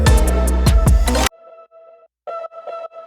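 Layered ear candy effects texture in a K-pop production, heard first under a loud full track that cuts off, then as sparse glittery tonal tones and shimmering ringing bits on their own.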